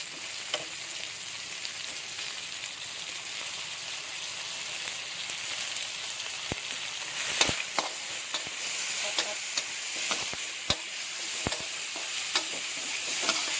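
Onion and tomato frying in a pan, a steady bright sizzle and hiss close by, punctuated by sharp clicks and scrapes of stirring.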